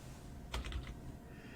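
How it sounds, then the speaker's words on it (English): Computer keyboard typing in a short quick burst of a few close key clicks, faint and brief, against a quiet room hum. "I'm just typing in the line on A up there"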